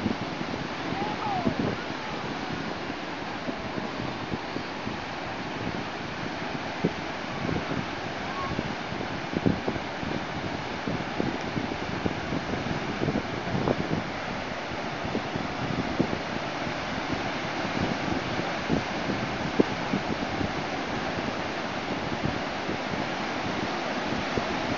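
Waves and wind at Bodega Head on a bright day, a steady broad wash of surf with buffeting gusts on the microphone that holds at an even level throughout.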